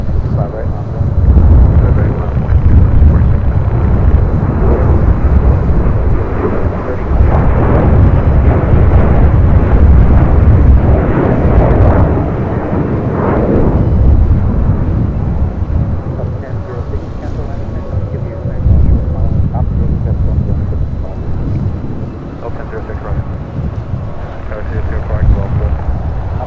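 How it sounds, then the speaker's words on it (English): A United Airlines Boeing 737-900ER departs LAX for Chicago O'Hare, its jet engines making a loud, sustained low roar and rumble. The roar swells and fades over about half a minute with wind buffeting the microphone. "That was United Airlines Flight 1630 heading to Chicago O'Hare in that 737-900 ER."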